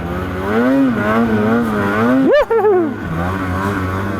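An EXO Sled snow bike engine drones steadily at close range while being ridden, then surges in a sharp rev partway through before settling back to a steady hum.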